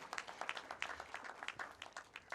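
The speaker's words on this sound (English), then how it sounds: "Clap for yourself" Graduates clap for themselves at the ADMI graduation ceremony at Absa Bank Sports Club, a quiet, sparse scattering of individual claps with distinct beats rather than a full roar.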